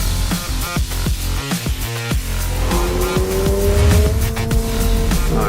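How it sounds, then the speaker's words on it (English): A Subaru BRZ sports car on sport tires laps a racetrack, its engine revving hard through quick gear changes with rising pitch sweeps, loud and continuous from inside the car. "I can put this car anywhere I want on the racetrack"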